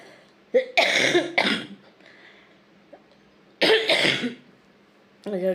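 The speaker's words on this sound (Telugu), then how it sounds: "దగ్గు అంత దగ్గు వస్తుంది" A person coughs up close in several harsh bursts, some doubled, with short quiet gaps in between.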